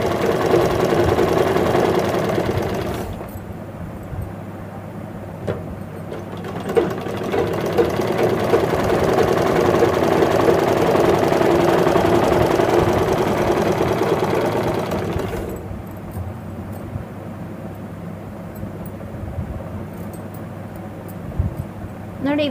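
A sewing machine stitches a nightie with a continuous mechanical whirr and rapid needle chatter, broken by a couple of pauses, while someone talks over it.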